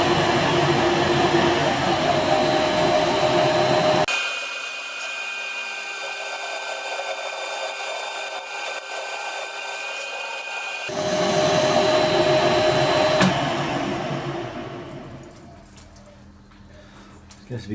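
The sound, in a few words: powered lathe slotter running in gear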